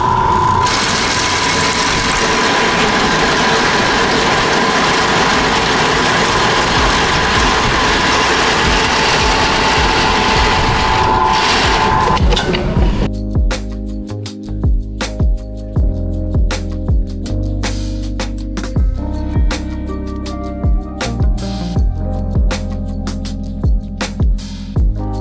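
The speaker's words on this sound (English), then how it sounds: "So I'm using the bandsaw." A bandsaw notches 1/4 inch steel, first giving a loud, steady, grinding whine for several seconds. A lower, humming machine drone follows once the cut stops.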